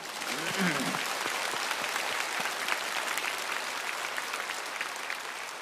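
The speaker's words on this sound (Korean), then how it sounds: "우리를 높여주신 하나님께 감사와 영광의 박수를 올리겠습니다" A church congregation applauds steadily in a dense wash of clapping that fills the room, with a voice briefly audible near the start.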